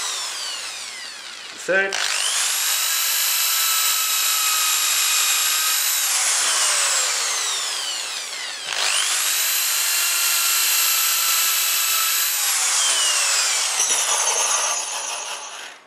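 A high-pitched power drill whines in two long sustained bursts driving screws into a wooden neck, each spinning up then winding down, close by, with a brief spoken word near the start.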